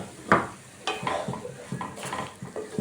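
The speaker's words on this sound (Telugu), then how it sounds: "అదే బాండీలో 1 కప్పు బొంబాయి రవ్వ వేయించుకుందామండి." Bombay rava (semolina) being dry-roasted in a pan for ravva laddu: a spoon scrapes and clinks against the metal in uneven strokes over a faint sizzle, close up with no talking.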